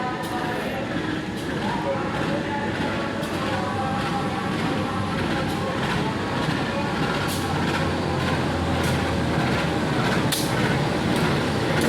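The Serayu night train, hauled by CC203 9512 locomotive toward Purwokerto through the Garut mountains, rumbles steadily from inside, a constant, heavy rolling roar with periodic sharp rail clicks throughout.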